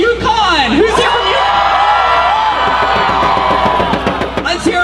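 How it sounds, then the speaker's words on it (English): A crowd of students and alumni cheering and whooping loudly at a roll call, a dense roar with shouted yells rising and falling, close and continuous over nearly five seconds, with a voice mixed in. "I want you to give a cheer as loud as you can"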